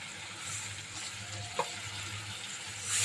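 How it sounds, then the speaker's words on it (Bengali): Water hits a hot frying pan with a soft, steady sizzle, a brief clink, then a sharper hissing surge at the end. "এখন দিয়ে দেবো এখানে পানি"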